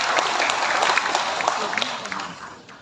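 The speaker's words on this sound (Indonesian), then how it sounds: "Kita berikan tepuk tangan." Audience applause at a Hindu religious holiday aid event in Badung, a dense steady crowd clapping that fills the whole moment and fades slightly toward the end.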